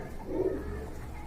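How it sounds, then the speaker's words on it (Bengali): A satin pigeon gives a single soft, low coo close by, against a faint background hum. "এখন দেখতে পাচ্ছেন আপনারা একজোড়া জনা সাটিন কবুতরের কালেকশন এখানে"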